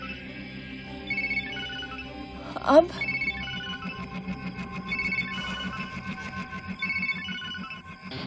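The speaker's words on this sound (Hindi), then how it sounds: "किसका फोन है?" A phone rings with a repeating electronic ringtone pattern, moderately loud indoors, while people talk over it and a sharp sound effect briefly cuts in.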